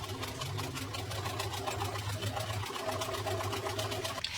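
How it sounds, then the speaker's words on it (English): A sewing machine stitches old, sturdy work pants into the base of a pet bed, a steady, close mechanical whirr with rapid needle chatter that briefly dips before running on. "I just stitched the wrong sides together"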